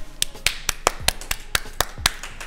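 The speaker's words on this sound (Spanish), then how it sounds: "Me encanta ese aplauso espontáneo" A few people clapping spontaneously at a filmed science show recorded in a Hyatt hotel venue, sharp sparse claps in an uneven rhythm, close and fairly loud, with no voices.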